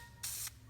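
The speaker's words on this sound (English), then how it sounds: "Test spray." A short burst of semi-gloss black spray paint hisses from an aerosol can in a test spray before coating car trim. The loud, steady spray lasts about a quarter second and starts and stops abruptly against a quiet background.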